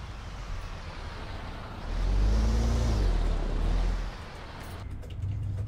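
Truck engine in American Truck Simulator, a low diesel drone that swells louder for a couple of seconds with a shifting pitch, then eases back to a steady idle-like rumble, no talk.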